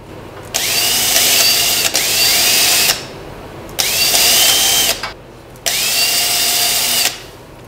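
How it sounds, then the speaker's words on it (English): A small countersink bit spins in a power drill at a woodturning session, whining loudly and close in four steady bursts of about a second or more each, separated by brief pauses. "I'm going to just put this in a drill"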